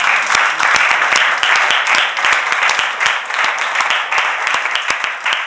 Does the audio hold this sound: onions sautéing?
no